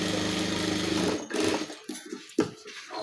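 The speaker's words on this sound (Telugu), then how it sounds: "ఇలా తీసాక ఒక స్టిచ్ అయితే ఇలా వేసుకోండి" Sewing machine stitching fabric during a cutting and stitching lesson, a loud steady whirring run for over a second that stops abruptly, followed by a few short clicks and handling noises.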